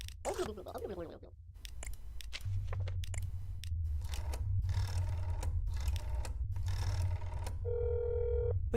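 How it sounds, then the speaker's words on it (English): An old-style telephone rings in the horror video game That's Not My Neighbor, a repeated bright bell trill under ambient game noise and clicks, with a faint steady tone near the end. "Please answer the phone."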